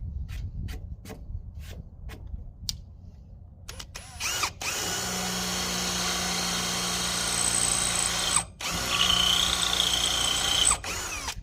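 A power drill with a dull bit bores into wood on a trailer ramp build, first in a few short bursts, then in a long grinding run with pitch shifts and a brief pause, loud and close.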